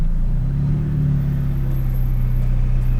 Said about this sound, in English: tap that throttle, she'll unlock the parking brake, and then we'll start rolling forward with a little bit of throttle